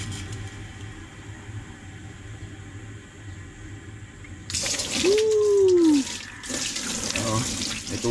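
Water gushes from a newly installed tap in a bamboo hut, a loud steady rush starting partway in over an outdoor background with distant roosters, while a voice exclaims over it.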